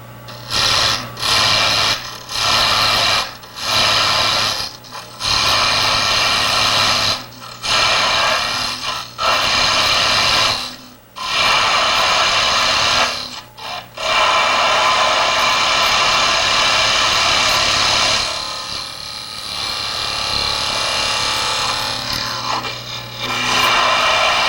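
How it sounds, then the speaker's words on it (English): Square-ended scraper, sharpened on the end and side, cleaning out the inside of a wooden threaded lid spinning on a lathe: a loud, steady rasping whir broken by repeated short pauses as the tool lifts away. "Now I'm going to take a square-ended scraper and clean out more of the inside."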